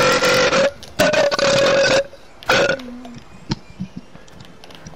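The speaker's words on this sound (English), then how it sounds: "That burp came out of my liver." A man lets out several loud, drawn-out burps in close succession while gaming on a PlayStation, followed by quieter clicks and rustles.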